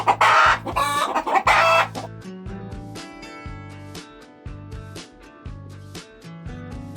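A chicken clucking up close, a loud burst of squawks at first and then a steady run of repeated clucks and calls, with no talk.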